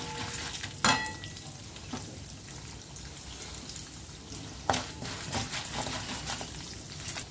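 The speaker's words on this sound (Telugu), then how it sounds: "వేయించిన పల్లీలు కూడా అందులో వేసేసాను నూనెలో వేగితే కొంచెం మంచి టేస్ట్ వస్తుంది కదా" Peanuts frying in hot oil in a pan while cooking a South Indian mango pulihora: a steady quiet sizzle broken by a few sharp clatters and stirring scrapes, with no talking.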